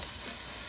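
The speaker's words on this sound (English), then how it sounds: "what we're gonna do with this meatloaf is just simply drop it right in, okay? And that's gonna sizzle" A meatloaf drops into a hot pan and sizzles with a brief, steady, close frying hiss.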